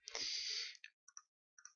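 A key press on a computer keyboard during VBA form editing: a sustained broadband click-burst followed by several short, crisp taps, close and fairly quiet with no talk.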